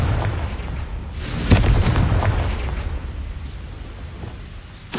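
A Confringo blasting spell going off in Hogwarts Legacy, a heavy booming explosion that bursts loudly and then rumbles and fades, with another blast starting right at the end.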